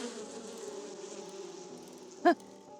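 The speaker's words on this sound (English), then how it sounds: "The bees, they're gonna get me." Soft steady buzzing of bees in a video game hums throughout, with a short sharp tone popping out near the end.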